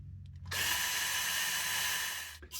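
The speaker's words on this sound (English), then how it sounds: "hit it with this drill one more time" A power drill spins up and bores steadily into a snapped bolt for about two seconds, a close, loud continuous whine that then cuts off, with faint tapping before it starts.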